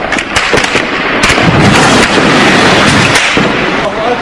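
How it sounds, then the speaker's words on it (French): Explosives placed under a military barracks in Syria go off in a loud, sustained roar of crackling bursts and rumbling debris, with dense sharp pops continuing throughout. "Les rebelles font sauter une caserne militaire en plaçant des explosifs sous le bâtiment."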